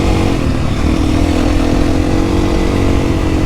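A 2025 KTM EXC-F 350 four-stroke dirt bike engine running loud and close while riding in snow, a constant dense rumble with a slight rise in pitch partway through.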